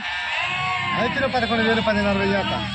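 Sheep and lambs bleat repeatedly at the Gudur sheep market, a close, overlapping chorus of wavering cries that swells in the middle of the stretch.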